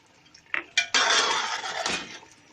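A spoon stirring black pepper into beef karahi in a metal pan: two quick clinks, then a loud scraping, sloshing stir lasting about a second and fading, close by, with no talk.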